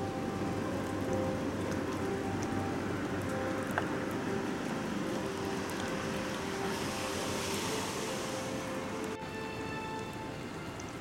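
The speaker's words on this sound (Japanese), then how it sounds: "あとは葉っぱに溜まった水がポタポタ落ちてるって" Water drips and patters steadily over a dense, hissing wash of droplets, rainwater falling from leaves in the Okutama mountains after rain, with no voices.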